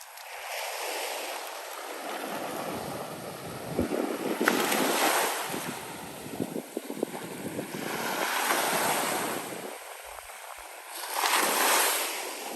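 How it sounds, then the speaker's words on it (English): Wind gusts roar across an open microphone by the water on a breezy morning, rising and falling in broad surges with waves and boat noise beneath. "Little windy this morning"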